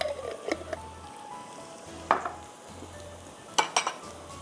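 Ginger garlic paste sizzles in hot oil in a pan for a Schezwan chicken dish, a steady soft frying hiss broken by a few sharp clinks of a spoon against the pot, with no talking.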